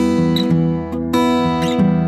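Electric guitar riff played without left-hand muting so the notes ring into each other with less pop. A short, steady, close-up phrase of repeated plucked notes, heard alone.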